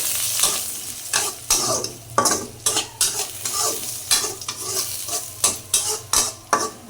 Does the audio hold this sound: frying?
yes